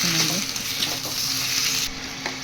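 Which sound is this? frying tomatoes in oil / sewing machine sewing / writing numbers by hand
frying tomatoes in oil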